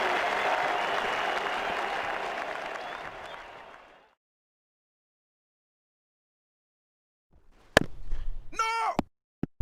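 A cricket crowd at an India v Australia Test match applauds a boundary shot, sustained loud clapping that fades out after about four seconds, followed by silence and then a few sharp knocks and thuds.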